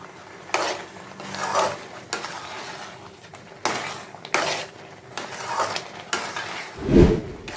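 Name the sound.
continuously stirring mango pachadi with grated coconut in a pan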